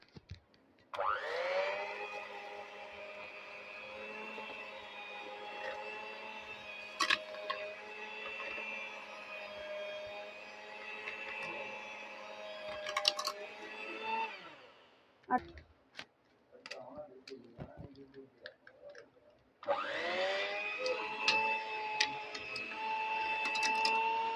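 An electric mixer whirs steadily through brownie batter as eggs are added one at a time. It stops for a stretch of clicks and taps, then starts up again, while a person talks over it.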